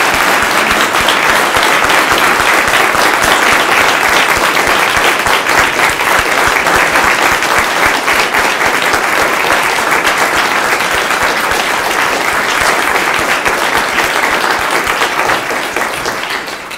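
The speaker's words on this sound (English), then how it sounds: "Please join me in a round of applause for both of them." Loud, sustained applause from a large audience at an Air Force ROTC commissioning ceremony, steady clapping throughout before tapering slightly at the end.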